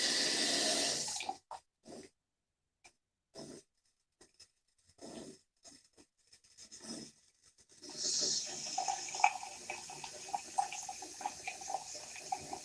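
A bathroom tap runs water in a quiet room: a steady gush at first, then broken trickles and gaps, and finally a gentler, fluctuating flow with small splashes.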